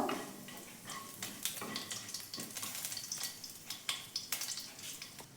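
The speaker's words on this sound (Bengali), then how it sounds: "প্রথমে জিরে ফোড়নটা দিচ্ছি তারপর যে গোটা গরম মশলাটা ছিল সেটাও দিয়ে দিলাম" Cumin seeds and whole garam masala fry in oil for doi paneer, a soft, close sizzle broken by repeated crackles and pops as the spices are stirred, with no voices.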